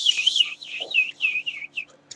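A small bird singing: a bright, fluttering warbled song of rising and falling trills, close and clear, broken into short phrases with brief pauses.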